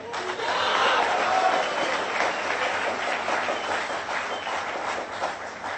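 An audience applauds at a spoken Hindi performance, a dense, steady wash of many hands clapping that holds for several seconds at fairly even loudness.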